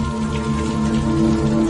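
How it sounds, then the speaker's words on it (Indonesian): Heavy rain pours steadily onto a deserted street at night, a dense, continuous hiss that stays even throughout, with a low steady hum underneath. "Hari yang semakin malam dan hujan yang sangat deras membuat jalanan menjadi sepi."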